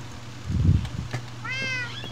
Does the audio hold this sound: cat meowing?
yes